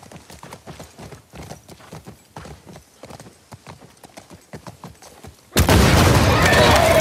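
Rapid, rhythmic hoofbeats of a galloping horse in The Last of Us Part II video game, steady and close, then cut off by a sudden loud burst of harsh noise near the end.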